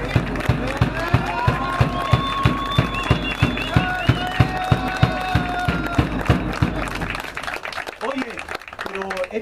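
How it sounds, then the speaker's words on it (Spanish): An audience at a youth football award ceremony applauds a young woman coming up to receive her trophy, with rhythmic, evenly paced clapping over music and crowd noise that fades near the end. "le damos un aplauso a la señorita para que venga a recibir su trofeo"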